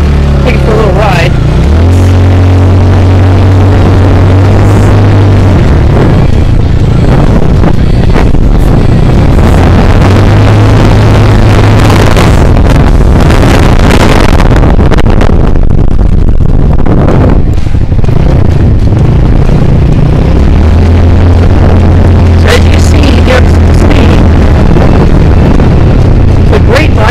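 A Motobravo 150cc LKY Hornet four-stroke scooter buzzes along on a ride, its engine note rising and falling over heavy, constant wind buffeting the microphone.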